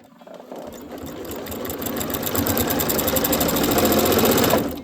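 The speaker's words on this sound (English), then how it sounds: "put this under the needle, under the presser foot, and I always do a little bit of a back stitch just to tack it down" A sewing machine stitching binding onto a quilted table runner runs at speed, with a rapid, steady mechanical chatter that starts abruptly, builds slightly and stops sharply near the end, close and loud.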